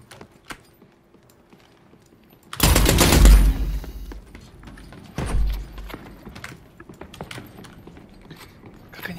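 Shotgun fire in The Cycle: Frontier, a loud close blast followed by a decaying roar and a second, weaker burst a few seconds later, with quiet game ambience and scattered clicks around them.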